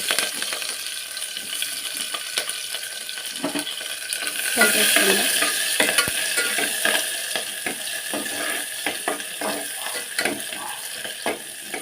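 Sliced onion and two green chillies frying in hot oil with bay leaf: a steady close sizzle with stirring and metallic clinks of a spoon against the pan, swelling briefly midway.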